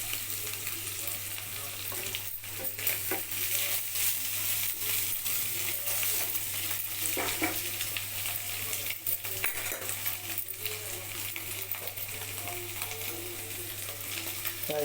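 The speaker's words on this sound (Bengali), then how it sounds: "কড়াইয়ের মধ্যে কিছুটা গাজর বিনস ভাজা এসব দিয়ে দিলাম, কিছুটা ডিম দিয়ে দিলাম" Carrots, beans and egg fry in a kadai with a constant sizzle, broken by frequent scrapes and clinks of a spatula against the metal pan, close and moderately quiet, no speech.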